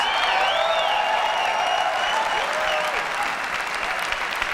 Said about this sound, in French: l'iPhone est présenté sous les applaudissements des journalistes présents à l'époque